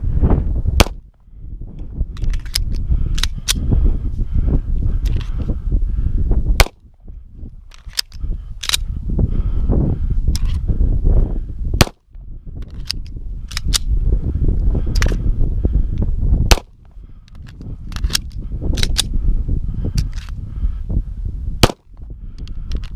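Daniel H9 pistol firing Federal ammunition at a range, sharp loud cracks fired one at a time, with several separate shots spread across the stretch over continuous background rumble.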